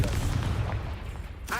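A Confringo blasting spell is cast in Hogwarts Legacy: a short, loud burst with a deep rumbling body that fades, with a voice speaking over it.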